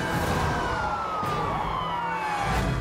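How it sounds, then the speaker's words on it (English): Police car siren wailing loudly and continuously with a steady sweeping tone, close by, during a chase on a city street after a suspect rammed a police cruiser; traffic rumble underneath. "the sound of a siren behind him sparks an angry encore"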